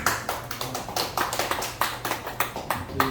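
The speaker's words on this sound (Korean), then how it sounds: "우리 윤문원 작가님 큰 박수로 맞으시면 감사합니다." A small audience claps to welcome an author at a life-school gathering, with sparse, individually audible claps in an uneven rhythm and no talk over them.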